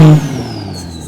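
A car engine with a T51R turbo revs hard for a moment, loud and close, then settles into a steady running hum with a faint high whine.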